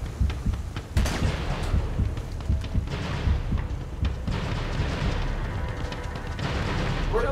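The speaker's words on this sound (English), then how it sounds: "Where the hell is he shooting me from?" Repeated gunfire from enemies shooting at the player in Uncharted 2, with scattered sharp shots and booming impacts over a rumbling game soundscape.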